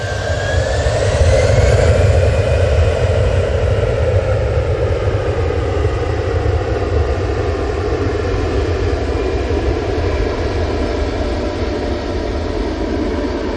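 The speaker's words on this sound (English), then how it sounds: "It's a Lufthansa A380 from Boston to Munich." A Lufthansa Airbus A380 jet roars steadily at an airport, a loud, sustained engine rumble with a faint rising whine early on and no voices.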